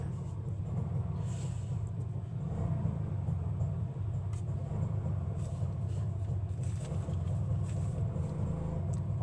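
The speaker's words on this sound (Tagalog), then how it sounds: "Ingay ng tricycle, narinig nyo ba?" A motor tricycle goes by outdoors, giving a steady, low engine rumble that holds at one level for several seconds with no voices over it.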